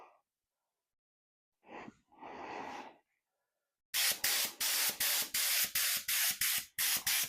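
An air hose blasts solvent over a 1979 Corvette during paint chip and crack repair, sounding as about nine sharp, loud hissing bursts in a steady rhythm, preceded by a couple of softer breathy puffs.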